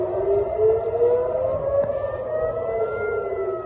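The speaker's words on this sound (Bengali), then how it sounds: "তেল আবিব জুড়ে সতর্কতামূলক সাইরেন বেজে ওঠে" A civil defense air raid siren wails across Tel Aviv, a loud continuous tone slowly rising and falling with faint higher harmonics, one steady blast without voices.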